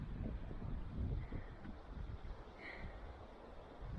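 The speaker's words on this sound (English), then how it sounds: "I am glad that it is windy" Wind gusts buffet the open shoreline at the Great Salt Lake State Park marina in Utah, a soft, low rushing that swells and eases, faint and continuous with no voices.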